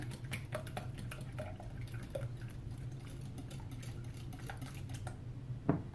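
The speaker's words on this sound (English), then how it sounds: "So we'll just give that another slight whisk here." Eggs, yolks and whites mixed, are whisked in a bowl, a soft, rapid clicking patter of the whisk against the bowl with a small clink near the end, close and quiet without talking.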